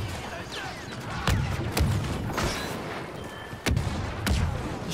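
Blaster gunfire in the Star Wars Battlefront 2 video game, several sharp shots cracking over a dense battle din, with bursts at irregular intervals and voices talking underneath.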